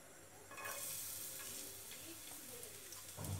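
Chopped garlic fries in white oil in a pan, a quiet, steady sizzle with some stirring scrapes that runs for a few seconds, with no voices over it.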